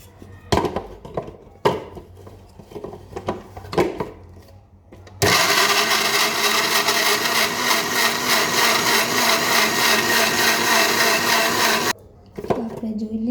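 A mixer grinder whirs loudly and steadily for several seconds, blending tomato, onion and garlic, after clattering handling knocks and before a brief pause and restart.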